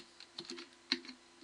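Short bursts of keystrokes on a computer keyboard while a website address is entered in Windows, a few quick clicks and one sharper tap, close and fairly quiet.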